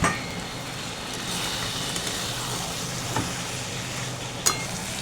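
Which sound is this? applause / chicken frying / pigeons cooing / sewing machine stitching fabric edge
chicken frying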